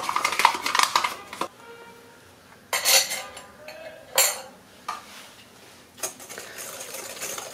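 A hand whisk beats yogurt batter with vanilla or banana flavour in a bowl for mini harcha made with fine semolina, giving quick bursts of metallic clinking and scraping against the bowl that come and go, close and fairly loud.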